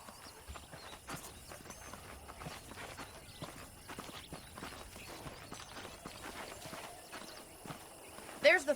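Horse hooves in Red Dead Redemption clip-clop at an unhurried walking pace, faint and steady, with a brief sharper clatter near the end.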